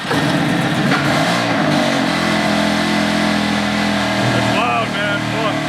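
A BMW F80 M3 that had been stuck in limp mode fires up and revs, its loud engine roar filling the whole stretch with rising and falling revs while people talk nearby.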